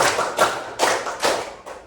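Four sharp hand claps in a steady, evenly spaced rhythm, close and fairly loud, with nothing else heard between them.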